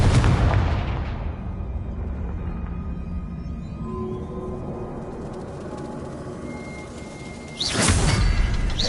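A Confringo blasting spell explodes in the Hogwarts Legacy video game, with a sustained loud rumbling roar of magical combat that dips slightly, then a fresh sharp blast bursts in near the end.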